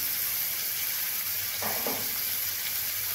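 Salted onions sizzle and fry in a pan, browning with a constant close hiss, plus a couple of brief stirring scrapes midway.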